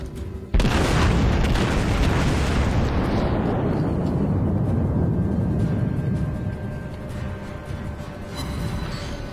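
Heavy battleship main-gun salvo of armour-piercing shells in World of Warships, the Wyoming firing: one huge, close boom that rolls out into a long, slowly fading rumble with no talk over it.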